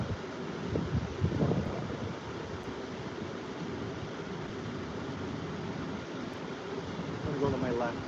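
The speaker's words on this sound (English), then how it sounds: "the wind grabbed it there a little bit on me" Wind blows outdoors beside a creek during pike fishing in Ontario, a steady rumbling roar buffeting the microphone throughout, gusting harder near the start and end, with faint muffled voice fragments underneath.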